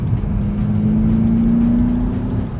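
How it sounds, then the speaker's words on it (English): A SEAT Ibiza Cupra 1.8 engine in sport mode, partly synthetic, hums from inside the car as a steady whirring drone with a slowly rising tone, loud and continuous without talk. "there's also a lot more engine noise, which is a little bit synthetic, but actually sounds pretty convincing"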